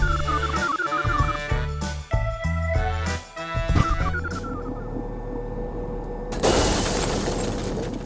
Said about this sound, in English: Blast the Past puts you in control of a wrecking ball, and you need to take down some buildings